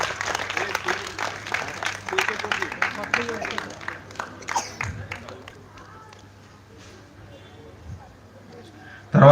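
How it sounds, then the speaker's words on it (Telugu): An audience at an Ambedkar birthday celebration claps to welcome a guest onto the stage, a dense burst of applause that holds for several seconds and then thins out and fades. "అందరూ కరతాళ ధ్వనులతో గట్టిగా క్లాప్స్ కొట్టి స్టేజ్ మీదకి ఆహ్వానం."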